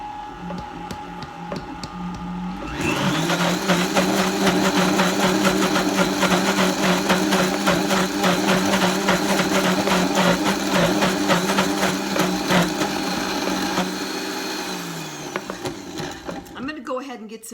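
A blender whirs steadily at high speed, mixing ricotta keto cheesecake batter, starting abruptly after a quiet moment and holding a loud, constant drone for about fourteen seconds before winding down.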